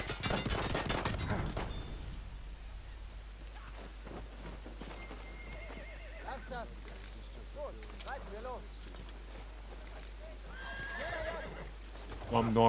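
A horse in a video game neighs and its hooves clip-clop among scattered gunfire and clanking, with someone talking over much of it.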